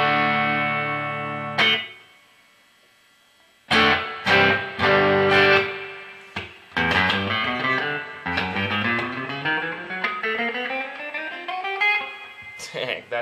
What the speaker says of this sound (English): Now let's add the reverb.